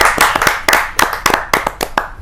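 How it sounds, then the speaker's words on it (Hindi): Loud, close clapping rings out at a Hindi poetry gathering (kavi sammelan), bursts of a few pairs of hands striking in quick, uneven clusters with a booming room tone beneath. "जोरदार तालियों के साथ"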